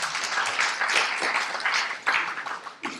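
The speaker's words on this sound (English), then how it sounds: "I think you should give applause to the UAE" An audience claps during a lecture on technology and the economy, steady close applause with a few uneven surges before tapering.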